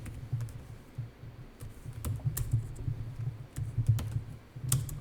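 Typing on a computer keyboard during an accounting class, a quick irregular run of light key clicks, close and fairly clear, with no talk.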